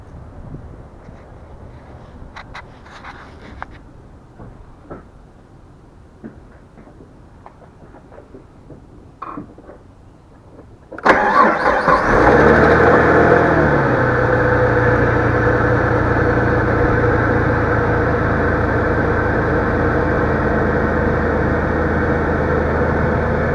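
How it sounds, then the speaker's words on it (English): A car engine cranks briefly and catches with a loud burst, then runs at a steady idle, heard close with no talking, after a quiet stretch of faint background noises. "So for the cranking test, it tells me to go ahead and start the engine."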